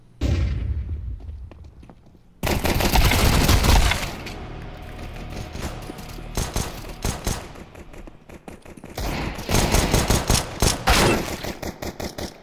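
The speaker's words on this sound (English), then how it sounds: "I'm throwing a flashbang." Counter-Strike match audio as a flashbang goes off amid gunfire: loud bursts and rattling volleys that start suddenly after a quieter opening, then keep going as dense, sustained shooting with a second surge near the end.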